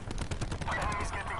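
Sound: gunfire in the video game Call of Duty Black Ops 4

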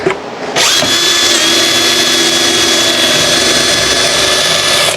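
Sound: powerful drill driving a screw

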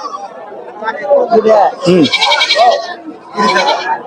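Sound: goats bleating at a goat market in Bangladesh

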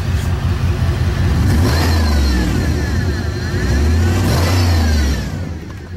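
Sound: Impala SS engine revving after nitrous kit removed

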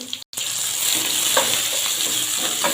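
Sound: onion, carrot and green chilli frying in pan

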